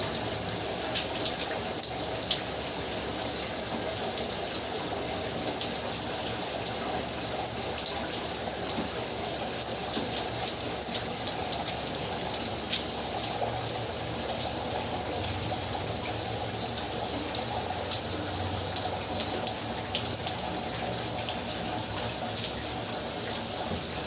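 Water runs steadily from a tap for more than twenty seconds, a continuous bright gushing hiss that stays even and close. Faint background noise sits underneath.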